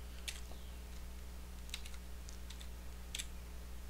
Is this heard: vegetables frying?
no